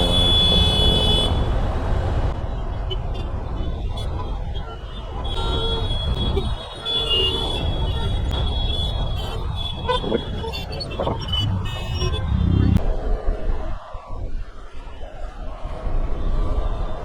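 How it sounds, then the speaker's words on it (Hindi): Dense Mumbai road traffic roars continuously, with car horns tooting again and again over the engine noise of cars, trucks and buses, loud and close. "Fucking hate Mumbai traffic."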